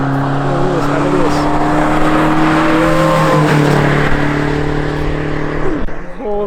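A 1990 Mazda Miata fitted with a 1991 engine skids with tires squealing, its engine droning loud and close in a sustained howl with wavering pitch, while a person talks over it.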